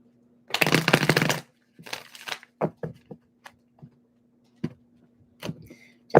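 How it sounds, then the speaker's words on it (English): Tarot cards shuffled by hand in one long riffling burst, followed by scattered soft taps and flicks as cards are handled and laid out, close and fairly quiet. "One more shuffle."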